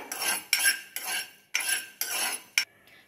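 Fenugreek seeds roasting in a pan for a Kerala rasakalan, stirred with a metal spoon in five or six rhythmic scraping strokes, each a bright rattling sweep, close and with no talk.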